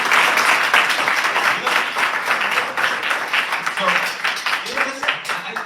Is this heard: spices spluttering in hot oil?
no